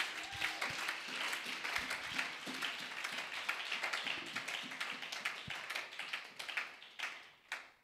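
A church congregation claps and applauds in acclamation of the Lord, a dense run of fairly faint hand claps that fades out toward the end, with no clear speech.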